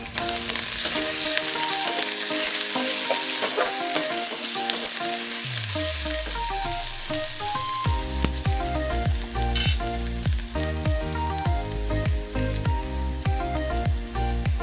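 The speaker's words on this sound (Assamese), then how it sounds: "মিহিকৈ কাটি থোৱা আদাটো দি দিছোঁ, লৰাই দিছোঁ" Small fish frying with chopped ginger and garlic in a pan, a steady close sizzle under rhythmic stirring and scraping strokes, with a faint musical backing and no voices.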